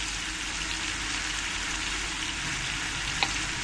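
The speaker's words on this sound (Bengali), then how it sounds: "এবার আমি এর মধ্যে দিয়ে দেবো আদা রসুন পেস্ট" Ginger garlic paste sizzles steadily in hot oil for a jhinge posto dish, a dense, even frying hiss with one brief utensil tap near the end.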